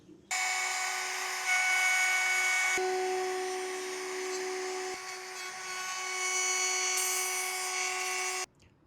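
A power cutter running through a piece of plywood, a loud steady high whine held for several seconds with slight shifts in pitch as it bites, starting and stopping abruptly.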